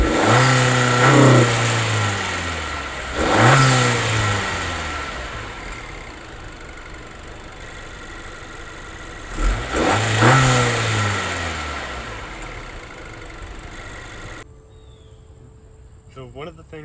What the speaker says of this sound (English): it does sound really mean for being just a little 4-cylinder